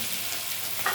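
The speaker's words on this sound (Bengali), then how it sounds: "আদা রসুন গ্রেট করা, পেঁয়াজ আর কাঁচা লঙ্কা কুচি সব একসাথে ভাজা হয়ে গেছে।" Chopped onion, grated ginger and garlic, and green chili frying together in a pan with cumin, a steady soft sizzle with light stirring, close and fairly quiet, no voices.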